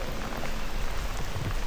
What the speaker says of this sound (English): Dude, this rain is pissing me off something fierce.